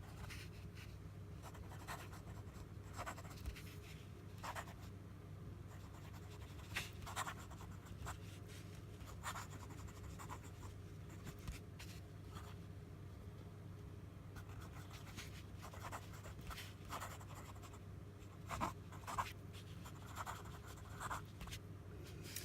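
A Pilot Custom 74 fountain pen with a music nib writes on paper with a slightly scratchy, close-up sound: soft continuous scraping broken by short strokes and taps, steady throughout over a low constant hum, with no talking.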